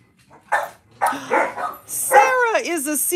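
A dog gives a few close, high yelping barks and whiny calls near the end, after a stretch of indoor talk, with voices nearby.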